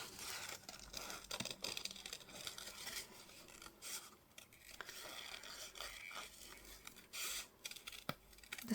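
Large scissors slicing paper for a no-sew junk journal, soft faint snips and rustling paper close by, a steady run of long cuts with light scraping between them.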